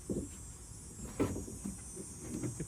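Rear door window track on a 2012-2017 Toyota Camry being slid aside, giving a few soft, brief plastic knocks and scrapes close by, spaced out over a quiet background with no talking.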